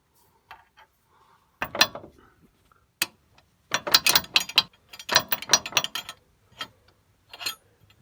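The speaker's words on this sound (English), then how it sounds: "Continue to unscrew the nut with a 22mm wrench." A strut nut on a Trailblazer/Envoy front shock strut being unscrewed with a 22mm wrench, giving bursts of quick metallic ratcheting clicks in uneven groups, close and fairly crisp, with brief pauses between turns.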